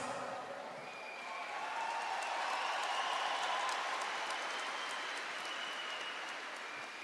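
Applause from an audience at a Catholic religious camp gathering, a broad steady wash of clapping that swells slightly mid-way and holds throughout, fairly loud and continuous with no speech over it.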